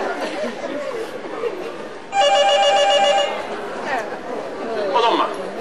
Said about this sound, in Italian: Risponde tu a suo telefono, Gidi.